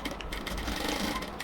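Sewing machine stitching the hem of a ladies' salwar pant, a brief continuous mechanical whir close by, steady and moderately loud with no talking.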